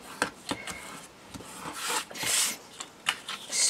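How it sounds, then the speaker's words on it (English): A Teflon bone folder is rubbed firmly along score lines in paper, giving short, close, dry swishing strokes in an irregular rhythm, with a few longer sweeps near the end. "taking my Teflon one, I'm just going to burnish those score lines again"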